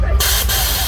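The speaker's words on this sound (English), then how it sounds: "we've got a nice air cannon tree over there" A compressed-air cannon fires in a Thorpe Park scare maze, giving a loud, sustained whoosh of hissing air that starts abruptly and fills the clip at close range, with no voices.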